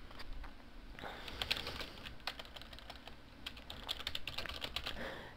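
Typing on a computer keyboard to write a forum comment: quiet, close clicking keystrokes in quick irregular runs with brief pauses, soft and alone without speech.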